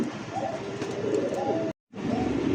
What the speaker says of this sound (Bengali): প্রিয় দর্শক দেখতে পাচ্ছেন স্ক্রিনে 2 কবুতর রেসার কবুতর অ্যান্ডোলোজিয়ান রেসার